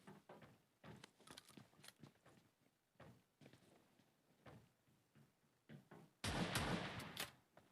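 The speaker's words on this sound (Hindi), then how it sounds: "जॉर्जो पुल उतरते साथ हमें मिलती है शॉट गन, जिससे हम एक बंदा किल कर देते हैं फ़ौरन से" Shotgun fire in a shooter video game on a bridge, quiet scattered shots and movement sounds before one loud, close blast near the end.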